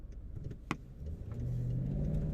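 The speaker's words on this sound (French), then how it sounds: "j'ai juste donné un coup de gaz" A BMW X6 50i with a V8 engine, blipped with a quick throttle stab, gives a low, swelling rumble that builds and holds steady near the end, heard close up after a short sharp click.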